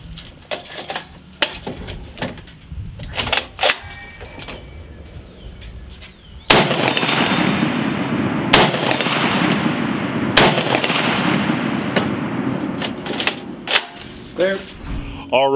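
An Ohio Ordnance Works BAR 1918A3 rifle fires outdoors at a range: several sharp single shots, then a loud sustained burst with echo, followed by more scattered shots and some talk.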